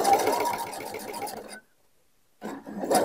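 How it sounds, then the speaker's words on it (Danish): A sewing machine stitching a bag runs at close range in two bursts, a fast rhythmic mechanical chatter that stops for about a second and then starts again. "Nogle gange synes man, at en symaskine lyder mærkeligt"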